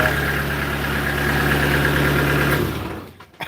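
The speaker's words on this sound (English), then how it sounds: "Here you are, look. Engine." A new gardening tool's engine idles close by with a steady, even hum for about two and a half seconds, then cuts out and falls silent.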